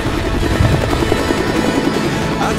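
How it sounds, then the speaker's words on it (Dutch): A large Vietnam War-era helicopter heard up close at a mountain site, its loud steady rotor thump and engine roar continuous throughout with no talk. "We worden vroeg in de ochtend opgepikt door een gigantische helikopter die nog dienst heeft gedaan in de Vietnamoorlog."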